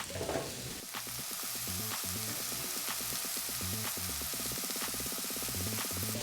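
Meat sizzles on a grill in a steady, close crackling hiss that runs the whole time with light popping, no voices.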